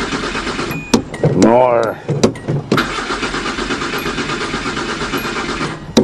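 A 1983 Datsun Pulsar engine cranks on its first start of the summer, with its carburetors dried up. The starter churns loudly in a few bursts with short pauses between them, and a voice speaks briefly.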